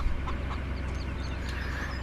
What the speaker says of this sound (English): But there's your chickens.